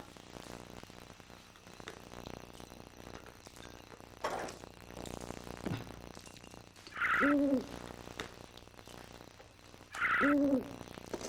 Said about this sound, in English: It's not pigeons. It's an owl.